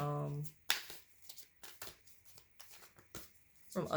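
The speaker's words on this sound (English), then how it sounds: "I'm like shuffling" Tarot cards are shuffled up close with quick papery riffles and soft flicks in uneven bursts, after a short voice at the start and another at the end.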